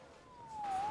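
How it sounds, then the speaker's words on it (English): A police siren wails in the Spider-Man PS4 video game, a faint, distant tone that slowly swells and bends in pitch. "Saved by the siren."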